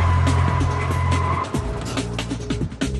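A car brakes hard and skids at high speed, its tires squealing and scrubbing over a steady engine drone. The sound is loud and close, lasts about three seconds, and no one talks.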